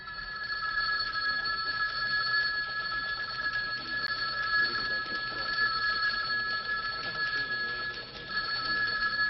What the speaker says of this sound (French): Qu'est-ce qu'ils ont à sonner comme ça, ce téléphone?